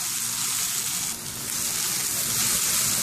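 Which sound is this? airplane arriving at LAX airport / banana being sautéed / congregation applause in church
banana being sautéed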